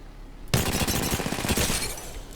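RE-45 pistol in the Apex Legends game firing a rapid, sustained burst of shots that starts abruptly and runs loud and dense to the end.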